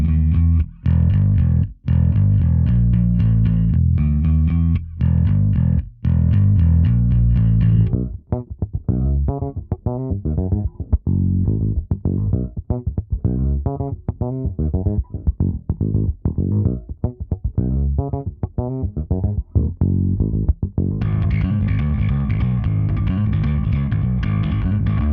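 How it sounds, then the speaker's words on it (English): A jazz bass played through an Ampeg SGT-DI bass preamp pedal rings out alone in loud, continuous plucked lines, and its tone shifts partway through and again near the end. "let's check out some jazz bass tones."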